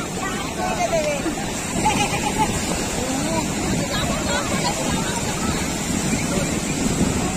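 Ocean surf rolls steadily onto the beach at Puri, a broad continuous wash of water mixed with wind buffeting the microphone and distant crowd babble.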